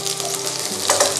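Pork stir-fried quickly over high heat in a hot pan gives a brief, loud, steady sizzle with a scrape of stirring near the end.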